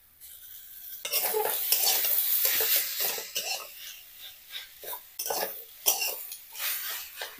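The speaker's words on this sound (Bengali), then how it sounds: "আলুটাকে এঁচড়ের সাথে নেড়ে নিতে হবে" Young jackfruit being stirred in a pan with a boiled potato, sugar added, for Bengali chop filling: repeated close scraping and scuffing strokes of a spoon against the pan over a soft sizzle, starting after a quiet second.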